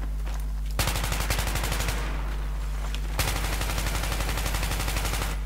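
Rapid automatic weapon fire in Battlefield 3 Close Quarters, two sustained bursts of fast, evenly spaced shots over a constant low hum, the second burst running to the end.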